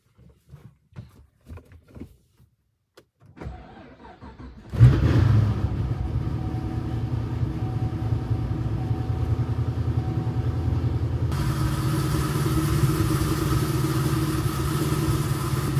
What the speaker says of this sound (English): The cold start is very, very good for a cam car.